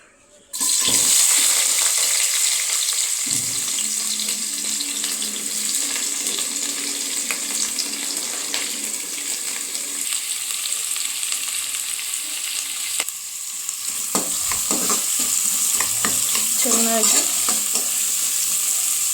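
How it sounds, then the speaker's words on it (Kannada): Prepared chicken palav ingredients fry steadily in hot oil in a pan, a continuous close sizzle with occasional stirring and scraping sounds, heard alone without talk. "ನಾವು ರೆಡಿ ಮಾಡಿ ಇಟ್ಕೊಂಡಿರೋ ಇಷ್ಟನ್ನು ಎಣ್ಣೆ ಒಳಗಡೆ ಹಾಕಿ ಫ್ರೈ ಮಾಡಬೇಕು"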